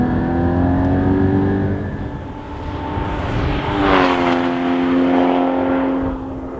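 A 2016 Porsche Cayman GT4 engine accelerating, a loud, close, sustained roar whose pitch climbs, dips briefly, then rises again through the gears.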